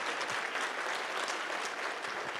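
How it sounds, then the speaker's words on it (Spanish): An audience at a political panel event applauds Leo Zuckerman with steady, dense clapping throughout. "Un aplauso para Leo."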